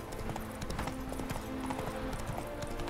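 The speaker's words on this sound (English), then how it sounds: "I vastly prefer just running with Roach to these places" Horse hooves clip-clopping at a steady trot while riding through The Witcher 3: Hearts of Stone, a continuous rhythmic beat over game ambience with a faint whinny hint.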